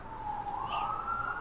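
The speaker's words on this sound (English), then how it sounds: "Don't pay attention to those sirens." A siren wails steadily outside at moderate distance, a sustained tone rising slightly in pitch, with no talking.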